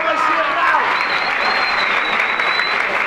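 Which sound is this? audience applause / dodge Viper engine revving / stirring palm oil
audience applause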